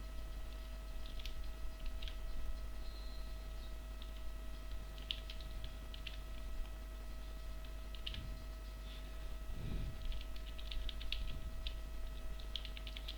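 Quiet clicks of typing on a computer keyboard, irregular and sparse, with small bursts of keystrokes over a steady low hum.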